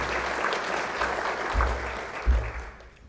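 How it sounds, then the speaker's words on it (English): Applause at a 2014 Queensland small business awards event, a full, sustained round of clapping from a seated indoor audience, steady and fairly loud with slight swells, no talking over it. "I think that deserves a round of applause"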